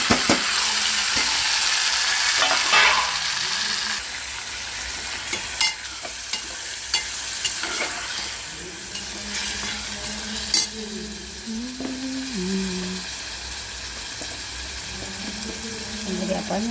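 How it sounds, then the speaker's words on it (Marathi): Onion frying with curry leaves in a pan for a spicy liver masala, a loud, steady sizzle with stirring scrapes, and a voice speaking briefly over it toward the end. "कांदा भाजताना आपण त्यामध्ये कढीपत्ता टाकायचा।"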